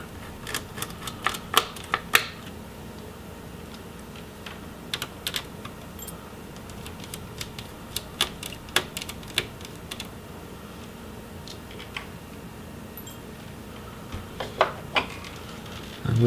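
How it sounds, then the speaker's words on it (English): Small screws being worked loose from the motherboard of a Dell Inspiron 15 3000 laptop, with scattered light clicks and taps of a screwdriver and metal parts, close and quiet, spread irregularly across the stretch with no talk. "now we can get the remaining screws that are in the motherboard"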